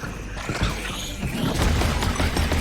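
Booming blasts and crashing debris from an exploding target in the video game Journey to the Savage Planet, a dense, continuous rumble of impacts that swells louder through the second half.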